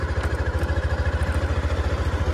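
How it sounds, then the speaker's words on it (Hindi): A motorcycle engine idles as the bike comes to a stop in a small town, giving a steady close, low, rhythmic chugging pulse with a light mechanical clatter. "बाइक रोक देकर मैं दिखाता हूँ"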